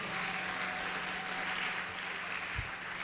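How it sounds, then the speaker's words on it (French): A church congregation claps and applauds for the Lord in steady, dense applause that fills the room at an even level for the whole span, with no break. "On acclame pour le Seigneur."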